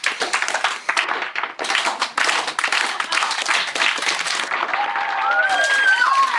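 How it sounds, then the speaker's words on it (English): Round of applause from a small group of people, uneven clapping with brief gaps early on, then steadier clapping with a few whoops layered over it near the end. "A round of applause. Guys. Slow clap."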